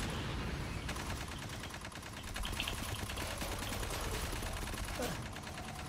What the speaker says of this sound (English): this burst fire kind of sucks